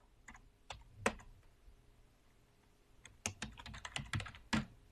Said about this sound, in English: Enter my password again for Greg test. Hit enter